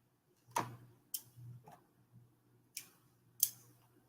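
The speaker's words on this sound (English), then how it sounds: "These are not the best scissors for something like this" Scissors snip through toy packaging, about five sharp separate cuts spaced across a few seconds, close and fairly quiet, with faint low background hum between them.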